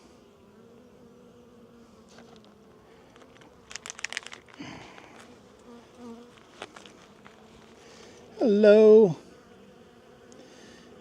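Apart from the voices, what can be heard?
honey bees buzzing during mid-winter apiary inspection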